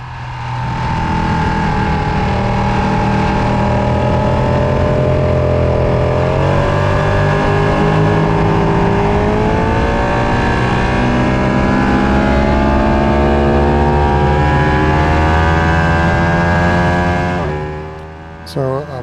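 A Ducati 1299 superbike engine screams at high revs around the Palmer Motorsports Park track, a loud sustained whine rising and falling through gear changes for nearly the whole stretch before easing off at the end.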